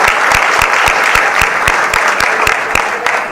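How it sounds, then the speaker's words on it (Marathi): Steady applause from a political rally audience cheering the unity of their organisation, many hands clapping densely and loudly throughout, with sharp individual claps standing out in a near-regular rhythm. "संघटनेच्या एकजुटीसाठी टाळ्या"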